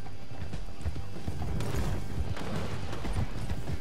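Horse hooves clip-clop loudly and continuously in Red Dead Redemption 2, a dense galloping rhythm close up over a busy game soundscape.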